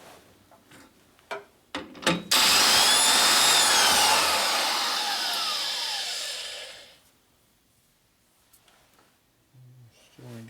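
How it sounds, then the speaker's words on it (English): A grinder works a transmission part on a 1967 Harley-Davidson 74ci Shovelhead FLH, running loud and steady for about five seconds before winding down, with a few clicks and knocks before and after. "So now we have to grind a little bit deeper."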